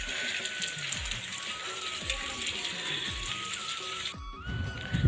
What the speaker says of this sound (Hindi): और देख सको तो कितना बारिश होते, पानी सब तरफ।